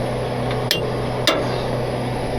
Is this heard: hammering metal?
yes